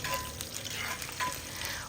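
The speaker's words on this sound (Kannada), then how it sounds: "ಎಣ್ಣೆ ಬಿಸಿ ಆದಮೇಲೆ ಅರ್ಧ ಚಮಚ ಸಾಸಿವೆ ಅರ್ಧ ಚಮಚ ಉದ್ದಿನಬೇಳೆ ಕಡಲೆಬೇಳೆ ಒಂದು ಮುದ್ದಿರುವಂತಹ ಬ್ಯಾಡ್ಗಿ ಮೆಣಸಿನಕಾಯಿ ಸ್ವಲ್ಪ ಕರಿಬೇವಿನ ಸೊಪ್ಪನ್ನು ಹಾಕಿ ಒಗ್ಗರಣೆಯನ್ನು ಮಾಡ್ಕೊಳ್ಳೋದು" Mustard seeds, urad dal, chana dal, a Byadgi chili and curry leaves sizzle in hot oil for a tempering, a close crackling fry with faint pops and stirring.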